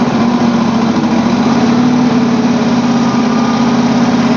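A pile machine's engine running in the snow in Russia, a loud, close, steady droning hum with an even rapid pulse, held at slightly raised revs for the whole stretch.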